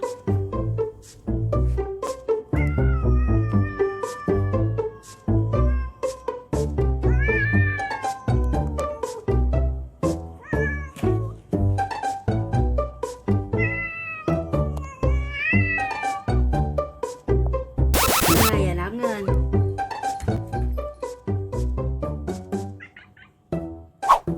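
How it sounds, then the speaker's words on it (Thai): Cats, one of them black, yowl and growl at each other in a long, drawn-out standoff after play-teasing, with rising wails and harsh snarls close by, repeating without pause. "เริ่มมีเสียงแล้ว มีเสียงจากน้องน้ำเงินแมวดำแล้วค่ะ ลุยกันใหญ่เลย"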